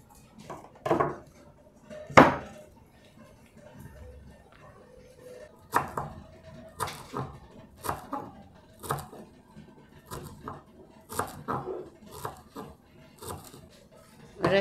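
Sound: chopping cilantro with a knife

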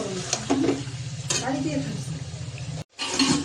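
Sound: meat being sautéed (kosha) in a pan

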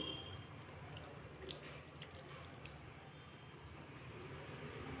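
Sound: pouring frying oil into a chicken curry mixture

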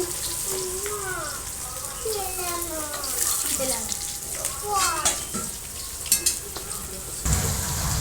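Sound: rohu fish frying in oil

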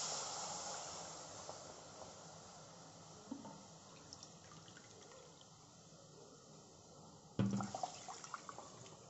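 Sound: water poured into semolina in a kadhai

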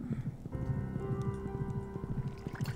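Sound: horse hooves clip-clopping in video game Stardew Valley

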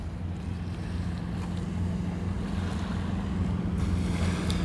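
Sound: water pumping out of a sinkhole

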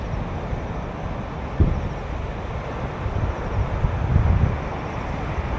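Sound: strong wind in a forest

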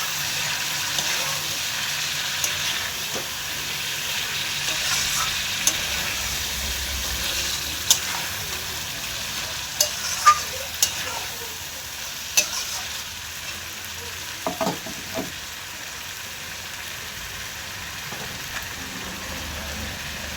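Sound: meat frying and being stirred with red chili

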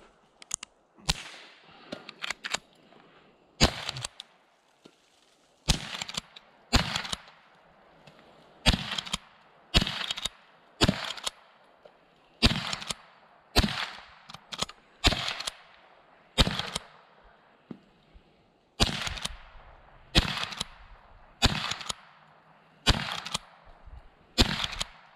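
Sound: Winchester model 94/22 lever action rifle shots at bean cans

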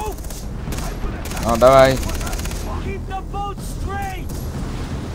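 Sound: gunfire in the video game Far Cry 3

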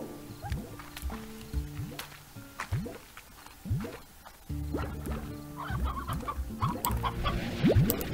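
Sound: chickens clucking in the video game Slime Rancher

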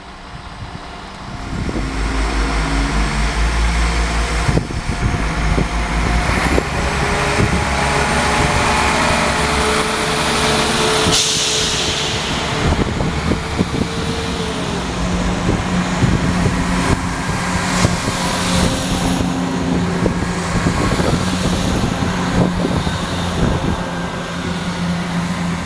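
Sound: two Class 67 diesel locomotives running at Banbury station

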